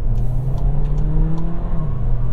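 A 2022 Volkswagen Taos accelerates with its DSG gearbox in manual mode, the engine note rising steadily in a loud interior drone with no voices.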